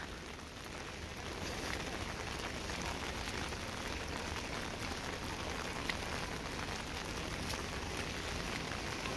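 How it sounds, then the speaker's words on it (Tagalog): Rain falls steadily during a walk outdoors in A Coruña, Spain, a constant dense hiss of drops on surfaces, fairly quiet and unbroken, with no talking. "Gawa ng umuulan"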